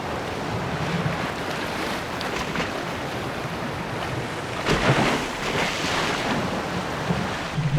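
A sailboat crossing the Atlantic, with steady broadband wash of waves and wind buffeting the microphone, a brief louder surge of water midway, and no voices.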